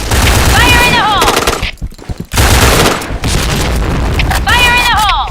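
Rapid automatic gunfire and blasts from the PointBlank video game roar loud and dense, broken by a brief lull, with game announcer voice cues layered over the shooting.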